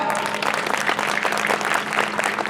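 An audience at a Malayalam movie promotion event in Dubai's Lulu Al Qusais claps for actress Bhavana, a loud, sustained wash of applause from many hands throughout.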